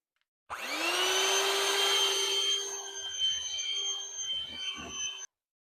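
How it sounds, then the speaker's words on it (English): Cake batter ingredients are whisked together: a steady, loud motorised whine starts abruptly, holds evenly for nearly five seconds, then cuts off, with no voices. "it's time to whisk together all the ingredients"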